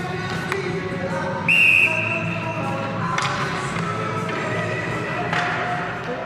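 A referee's whistle blows one short, shrill blast at an ice hockey game as players ready for the faceoff in an arena, over steady crowd and rink noise with occasional thumps.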